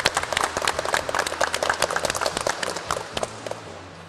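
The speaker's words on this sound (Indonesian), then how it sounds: "Tepuk tangan untuk semua." A class of automotive vocational students claps together in a workshop classroom, steady moderately loud applause that gradually thins toward the end.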